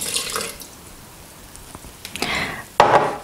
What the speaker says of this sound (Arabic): فغادي نضيف الحليب